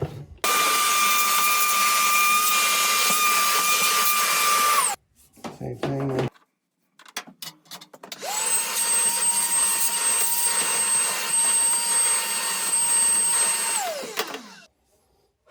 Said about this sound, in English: Go ahead and take a vacuum, just clean that out as well.